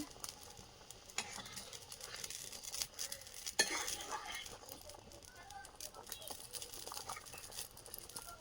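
A pot of vegetable curry boils on the stove, giving soft, close bubbling and faint sizzling with a clink of utensils partway through, quiet throughout.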